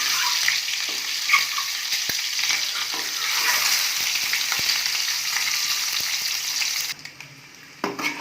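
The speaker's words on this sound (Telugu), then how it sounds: "ఎగ్స్ని అలా వేపుకోవాలి." Eggs frying in a pan on a stove over medium flame, a steady loud sizzle that runs unbroken for several seconds before cutting out abruptly near the end, with a few faint clinks.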